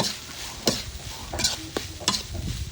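A spicy cobra stir-fry seasoned with sauce, sugar and MSG is stirred in a pan. Bursts of sizzling rise with each of several scraping strokes over a steady crackle.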